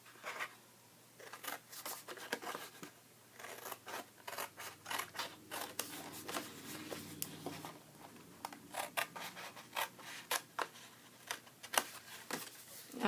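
Scissors cutting paper along score lines for an Easter treat bag, a steady run of quick close snips and crisp slices that continues throughout at a soft level.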